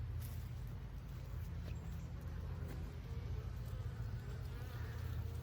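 Honey bees at an open hive during a June super inspection, a steady dense buzz holding evenly throughout, close and continuous with no talk over it.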